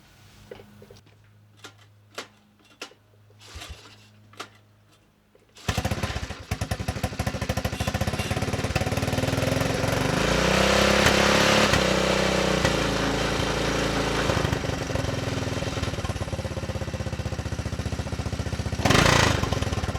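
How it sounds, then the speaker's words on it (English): A Honda three-wheeler fitted with a replaced pull start and air intake manifold gives a few sharp clicks, then its small engine catches and runs close and loud, settling into a steady, rough idle. "Well, it runs, and now it actually idles like it's supposed to be"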